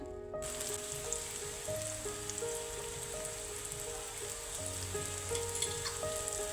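Potato pieces stir-frying in a pan with garam masala and pepper powder, a soft, even, rain-like sizzle that runs steadily throughout with faint tonal hum behind it, close and quiet, no voices.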